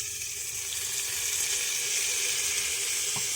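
Chopped tomatoes frying with vegetables in a clay pot for hotel-style sambar, a loud, steady hiss and sizzle that holds throughout with no voices.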